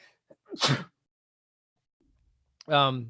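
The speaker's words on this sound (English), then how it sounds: "Hold on, gotta sneeze." A single sharp sneeze bursts out close by, followed by a pause and then a short voiced sound.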